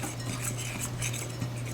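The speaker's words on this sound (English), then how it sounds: "we're going to start mixing it up" Utensils clink and scrape steadily as gluten-free fettuccine dough is mixed, close by, over a low steady hum, with no talking.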